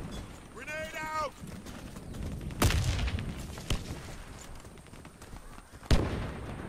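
Grenade blast and gunfire in the Warface shooter game: a brief shouted voice, then several sharp booming explosions and gunshot cracks spaced a second or more apart, loud against a rumbling battlefield background.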